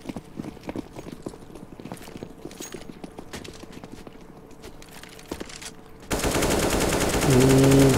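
Rapid bursts of rifle fire sprayed through a wall in a CS:GO match on Cache, sharp repeated cracks over steady game ambience before a louder sustained sound takes over near the end.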